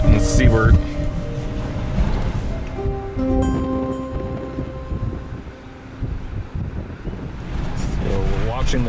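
Strong wind buffets the microphone in a continuous loud roar while storm chasers sit facing seaward, with people talking over it throughout.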